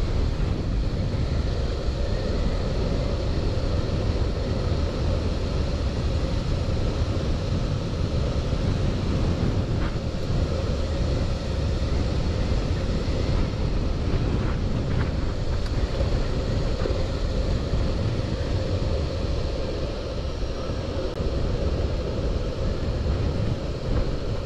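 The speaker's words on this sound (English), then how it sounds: "Ooh, it's windy." Steady wind roars across the microphone during an electric skateboard ride on a custom board along an open road, a constant dense rushing noise with no break throughout.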